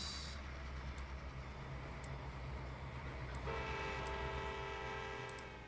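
A train horn blows a sustained chord over the steady rumble of a running train in the Trainz railway simulator game, the horn starting partway through and holding loud to the end.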